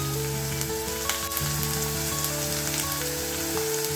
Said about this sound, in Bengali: পেঁয়াজ বাটা দিয়ে আমি ভালোভাবে এগুলোকে কষিয়ে নিব